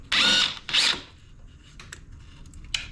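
Bolts on a 2011 Ski-Doo 1200 TNT snowmobile are loosened with a hand tool: two loud ratcheting bursts up close, followed by softer scattered clicks and clinks.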